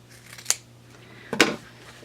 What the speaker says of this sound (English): we're going to go ahead and cut a 4th off right here.